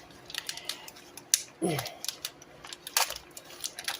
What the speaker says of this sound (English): it says peel here, so I'm trying to peel here